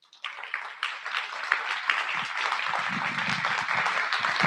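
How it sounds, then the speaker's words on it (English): An audience at a higher-education keynote event breaks into applause, with scattered claps at first that build into steady, dense clapping. "So give him a round of applause."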